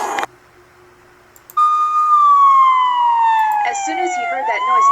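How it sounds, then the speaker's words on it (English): A police car siren wails in from a quiet start, a loud sustained tone sliding slowly downward, with a brief beep just before it begins. "The sound of police sirens reached his ears."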